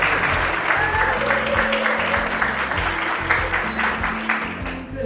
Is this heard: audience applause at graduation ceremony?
yes